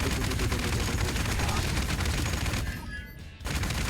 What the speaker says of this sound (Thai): ยิงไปแคนนอนสามดอก